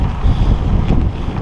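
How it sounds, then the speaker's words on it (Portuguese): Strong wind gusts across a mountainside on Serra da Estrela, a steady, loud roaring rumble buffeting the microphone throughout, with no voices. "Agora, muito vento também."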